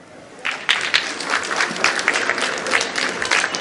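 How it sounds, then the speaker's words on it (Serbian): Audience applause at a saz music festival in Srebrenik, a dense burst of clapping that rises suddenly and continues steadily, loud and close, filling the room. "Ajmo jedan aplauz"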